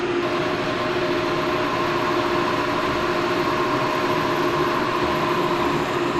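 A suspension puck that sets ride height is being cut down, a loud continuous grinding whine holding a steady pitch throughout with no pauses.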